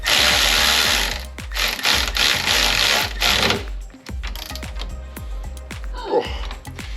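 A ratchet turning an 18mm socket clicks rapidly in quick bursts while fastening a lift kit on a Club Car Precedent golf cart, up close with brief pauses between runs.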